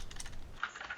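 Keys tapped on a computer keyboard hooked up to a tablet while playing the browser game Source.io, a quick run of light clicks with a few sharper strokes near the end.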